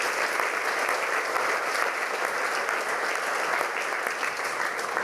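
Steady, dense applause from an audience filling a school hall during a prize-giving night, a continuous even wash of many hands clapping at moderate level with no voices over it.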